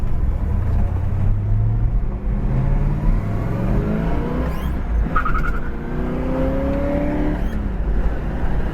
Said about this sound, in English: we're idling nice at about 800 RPM.